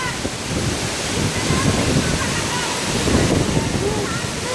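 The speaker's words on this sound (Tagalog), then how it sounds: "It's the most captivating falls." Ubot Falls in Villa Aurora roars as a steady broadband rush of falling water with gusty wind buffeting the microphone, close and constant throughout.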